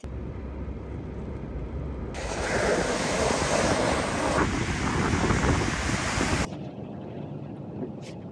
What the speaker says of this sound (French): le vent il est encore très fort